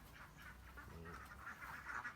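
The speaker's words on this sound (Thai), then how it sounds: "พี่เขาก็เอา เป็ดนะครับ ข้าในสวนนะครับ" Ducks kept in a Thai home garden quack repeatedly, a close flock whose nasal calls overlap in irregular bursts at low volume, with no talking.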